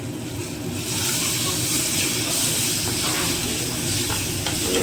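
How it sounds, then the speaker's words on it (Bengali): Ground sesame paste being sautéed and stirred in a pan, heard as a steady, close sizzling hiss that holds evenly throughout with no talking. "তিলটা দিয়ে ভালো করে কষাতে থাকবো।"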